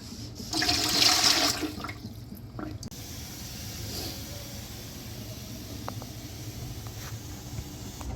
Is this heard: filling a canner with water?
yes